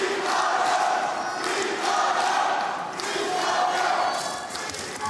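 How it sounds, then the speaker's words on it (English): Arena crowd at a judo World Championships -73 kg final in Abu Dhabi roars and chants continuously, a loud, sustained wall of cheering with rising and falling surges throughout. "Brought his own cheering section with him"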